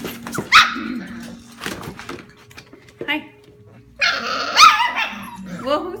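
Goldendoodle puppies at five weeks old (F1b litter) bark and growl in short, high yipping bursts close by, with a person talking softly between them.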